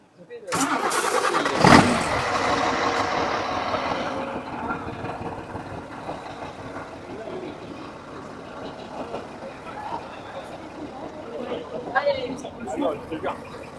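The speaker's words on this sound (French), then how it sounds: "il va démarrer la bête" A truck engine cranks and fires with a loud burst, then settles into a steady, rumbling idle that continues to the end, with people talking over it.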